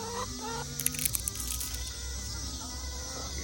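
Chickens in a backyard coop clucking, with a cluster of louder squawks near the start over a continuous low background hum.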